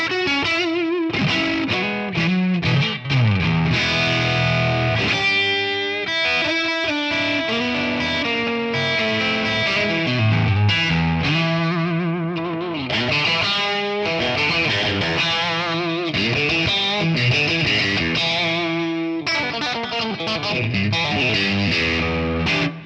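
Electric guitar through a Tonex ONE amp model with drive and reverb, played as a loud, distorted run of riffs and chords with sustained ringing notes that fills the whole passage, with no talking.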